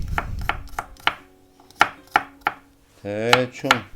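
Knife chopping garlic on a cutting board while making Pyongyang naengmyeon-style mild kimchi, a series of sharp, separate chops at an uneven rhythm, close and fairly loud, with a scraping sound near the end.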